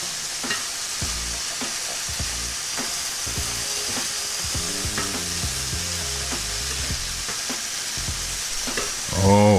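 Turnip hash with vegetables and granulated garlic sizzles steadily in a pan while a utensil stirs it in repeated scraping strokes, fairly close and loud, with no talking over it.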